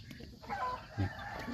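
Chickens cluck briefly and softly close by on a farm also keeping Muscovy ducks, a few short calls over low farmyard background noise.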